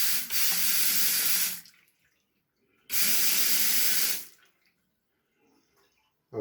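A Xiaomi Xiaoda automatic sensor faucet attachment runs water into a sink in two separate loud gushing bursts, each about a second and a half long, with near-silence between and after them.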